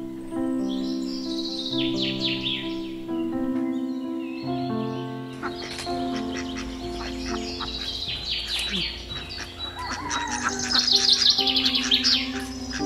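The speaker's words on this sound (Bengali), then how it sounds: "পাখির ডাকে ঘুম ভাঙল।" Morning birdsong rings out around a village hotel surrounded by trees, with several birds chirping and trilling close by, bright varied calls layering and growing busier toward the end.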